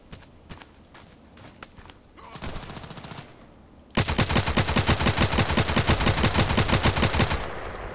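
Gunfire in the shooter game Contract Wars: scattered single shots, then a brief burst, then loud, sustained rapid automatic fire dominating the second half before easing off near the end.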